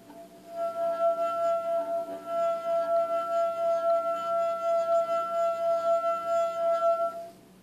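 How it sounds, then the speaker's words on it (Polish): A wine glass holding a little liquid sings as its rim is rubbed, producing a pure, steady ringing tone with a soft overtone that holds evenly for several seconds before stopping, quiet and alone. "Gdy nalejemy do niego odrobinę płynu i zaczniemy pocierać jego górną krawędź, to pojawi się dźwięk docierający do naszych uszu."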